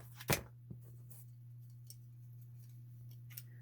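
Scissors snip string while making a rustic Christmas tassel tree: one crisp close cut followed by a few faint light clicks against a quiet, low background hum.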